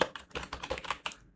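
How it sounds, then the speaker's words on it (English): Keys clatter on a computer keyboard while code is entered, a quick irregular run of close, crisp clicks lasting just over a second with no talking. "I'm just typing a code here"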